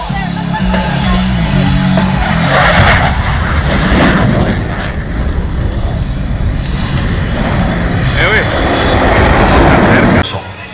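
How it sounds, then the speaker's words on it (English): Fast jet maneuvering nose low at over 400 mph at an airshow, a loud, continuous roar rising and falling as it passes, with people talking over it. "Watch as the pilot maneuvers his aircraft pure nose low at over 400 miles an hour."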